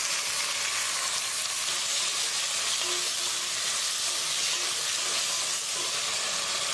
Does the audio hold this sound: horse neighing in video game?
no